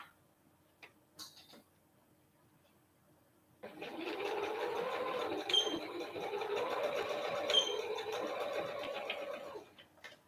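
A domestic sewing machine stitching fabric for a raglan top, starting after a few quiet handling clicks and running steadily for about six seconds up close, then stopping.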